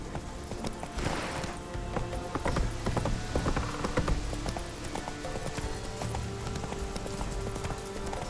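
Hoofbeats of the horse Roach galloping in The Witcher 3, a steady clip-clop rhythm running the whole time over layered game ambience and music, close and moderately loud.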